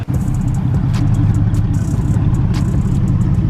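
A truck engine with its exhaust cut off idles loudly and steadily with a deep, rough low rumble and a few faint clicks on top, no voices.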